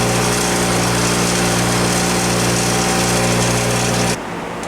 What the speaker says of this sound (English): I want to grind this down so I have a definitive tip on this bolt head